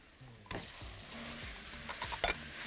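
Minced meat with onions sizzles in a hot pan while a spoon scrapes and stirs it in several bursts, with a couple of sharp clinks against the pan.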